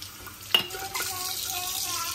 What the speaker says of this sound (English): I'm gonna add a little bit of water to this and get all that goodness out of there.